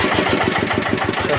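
An R190 single-cylinder engine idling, a loud, close, steady rapid chugging with an even rhythmic knock throughout.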